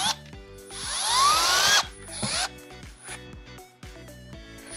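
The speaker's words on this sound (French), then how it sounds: "On vient visser ces morceaux-là dessus." A power drill drives screws into pre-drilled furniture panels for a Max Nano XXL unit, with two loud whirring bursts followed by clicking and handling noises, heard close with no talking.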